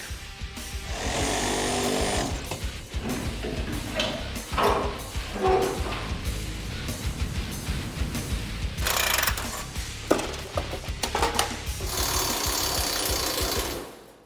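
Mechanics pulling parts off a car project with power tools, loud bursts of impact-wrench rattling and ratcheting alternating with clunks and quieter pauses in a garage.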